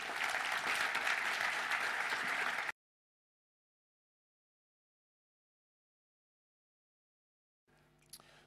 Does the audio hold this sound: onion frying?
no